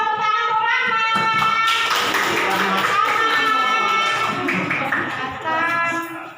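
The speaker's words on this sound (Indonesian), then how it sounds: "tepuk tangan untuk Rahma" Schoolchildren clap for a pupil named Rahma in an elementary classroom, a short burst of hand claps mixed with children's voices and a teacher talking over them.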